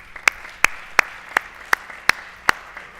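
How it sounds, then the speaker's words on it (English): Slow, evenly spaced claps ring out at an award ceremony, about seven distinct sharp hits over a few seconds, sounding like one or a few people clapping rather than a full crowd. "I would just like us to give them an applaud"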